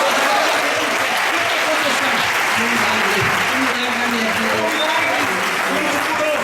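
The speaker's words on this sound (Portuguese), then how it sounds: "Aplauda, aleluia." Congregation clapping at a church healing service, sustained, loud applause from a large crowd filling the space, with a voice speaking faintly underneath.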